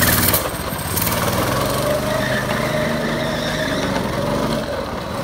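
A 1960s go-kart engine runs in a loud, continuous buzzing drone that holds fairly even throughout, with a sharper burst right at the start.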